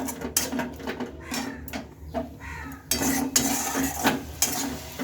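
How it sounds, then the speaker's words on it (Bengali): Spice masala with chopped tomato, salt, turmeric and chilli powder being stirred in a cooking pan for a cabbage and mung dal dish, with repeated metallic scrapes and clinks of a spoon against the pan at close range, no talk. "এবার ভালোভাবে আমি নেড়ে চেড়ে নেব মশলাটা এখন ভালোভাবে কষিয়ে নিতে হবে"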